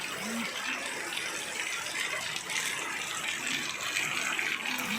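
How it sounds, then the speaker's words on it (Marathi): Floodwater from heavy rain rushes down the main road of Harangul village in Latur district, a continuous broad roar of flowing water that holds steady at close range. "हरणमूळ बुजुर्ग गावातील मुख्य रस्त्यावर चक्क नदीचे स्वरूप आलेले आपणाला दिसत आहे"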